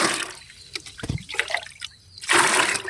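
Close splashing and trickling of water being poured into a container for a liquid plant fertilizer, with gurgles and drips, ending in a fuller rushing pour.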